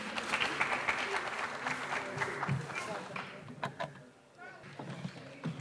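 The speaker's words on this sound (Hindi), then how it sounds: "उनके लिए भी ढेर सारी तालियां प्लीज़।" Applause from an audience at an award ceremony arranged by an academy, dense and continuous, with scattered individual claps standing out and a brief dip before the clapping picks up again; voices mix in underneath.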